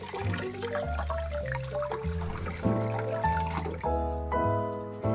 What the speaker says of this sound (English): let me just put a little cold water here.